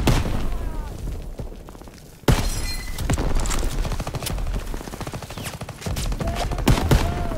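Battlefield gunfire from the Call of Duty WWII D-Day beach mission: dense, overlapping rifle and machine-gun shots fire throughout, with one loud sharp blast near the middle and a steady roar of combat behind.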